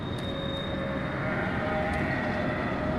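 Train in the video game Doom 3 rolling along steadily, a continuous low rumble with a faint high whine, near and unbroken with no talk.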